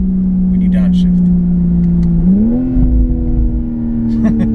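A 2019 BMW Z4 M40i engine holds a steady, loud drone, then climbs sharply in pitch midway as it revs on a downshift and settles at a higher note while driving around Cape Town.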